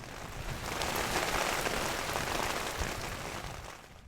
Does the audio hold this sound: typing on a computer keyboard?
no